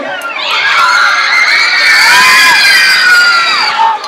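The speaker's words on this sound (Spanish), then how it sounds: "un nuevo aplauso para Tiago." Schoolchildren cheer and shout loudly together at a school concert, a burst of excited high voices and applause lasting a few seconds.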